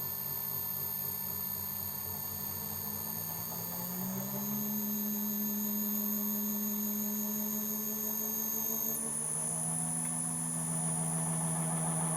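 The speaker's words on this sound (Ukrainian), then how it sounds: "Зараз ми піднімемо оберти на генераторі" A permanent magnet generator connected to a grid inverter hums steadily and winds up in speed, its tonal whine rising in pitch over about twelve seconds. A constant mechanical drone sits under the whine, with no talk.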